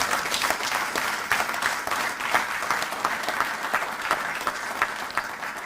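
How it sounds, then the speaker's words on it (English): An audience at a university professorial inauguration gives a round of applause: dense, steady clapping from a large crowd, loud and continuous throughout with no speech over it. "he deserves a round of applause"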